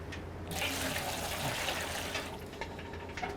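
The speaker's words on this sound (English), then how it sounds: "squeezing it out as you go." Washed clothes being squeezed by hand during rinsing in a 1920s-style laundry setting, water pouring and splashing steadily back into a tub, close and continuous without talk.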